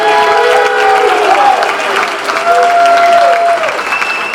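Loud, sustained audience applause for a Woburn Hall of Fame inductee at an induction event, hearty clapping that holds steady throughout, with a few tonal background sounds mixed in.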